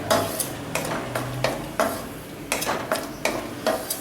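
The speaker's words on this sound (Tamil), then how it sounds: "ஒரு 10 முந்திரி பருப்பை வறுத்து சமப்பாக வறுத்து நல்லா ரோஸ்ட் ஆகும்" Around ten cashew nuts roasting in very hot ghee, stirred with a spoon that scrapes and clinks against the pan in repeated sharp strokes over a soft frying hiss, with no talk.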